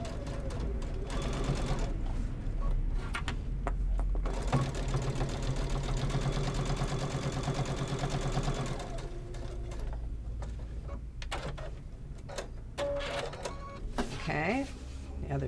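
Sewing machine stitching and backstitching a zipper onto a boxy zipper bag, a steady close mechanical whirr that runs nearly continuously, briefly pausing and restarting toward the end, with a voice talking over it.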